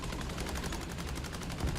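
Rapid machine-gun fire in a War Thunder simulator battle, a dense, even stream of shots rattling steadily from start to finish at a fairly loud level, with no talking over it.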